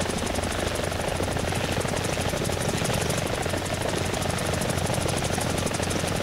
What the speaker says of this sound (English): I'm gonna crash the helicopter.